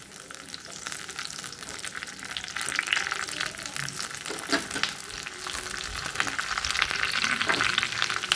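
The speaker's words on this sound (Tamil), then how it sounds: "கருவேப்பிலை மல்லி மட்டும் வாசனைக்கு நம்ம தாளித்து இந்த சாதத்தோடு போட்டுக்கலாம்" Curry leaves and coriander sizzling in hot ghee as a tempering for sambar rice, a steady, close hiss of frying that continues throughout without talk.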